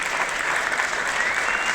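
An audience bursts into a short, dense round of applause at a live Uzbek event, steady and close throughout.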